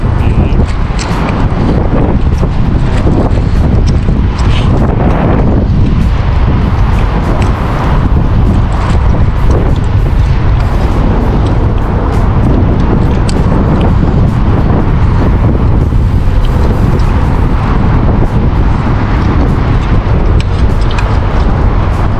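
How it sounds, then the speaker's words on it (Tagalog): Loud, constant wind buffeting the microphone with a deep roaring rumble throughout, gusting steadily without pause. "malakas yung hangin"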